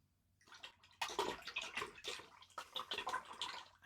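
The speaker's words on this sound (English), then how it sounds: "We'll give our brush a rinse again." Paint brush swished and rinsed in a water jar between strokes of an alpine lake landscape painting, giving a few bursts of close sloshing and splashing after a quiet start.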